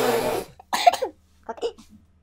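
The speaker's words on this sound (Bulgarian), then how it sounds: "Що кашлеш?" A short burst of speech is followed by a couple of close, throaty coughs, then a quieter cough or throat-clearing trailing off.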